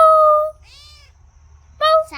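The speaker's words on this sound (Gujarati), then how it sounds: "અમારી માયા મીંદડાની એક ધારી રમાડે રહી" A house cat meows loudly and close by, giving a sustained cry, then a short pause with a fainter call, then another strong meow at the end.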